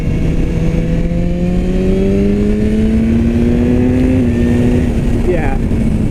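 A 2016 BMW S1000R motorcycle engine rises in a smooth, steady climb, held loud and close under constant wind rush, with a rider's voice audible faintly beneath.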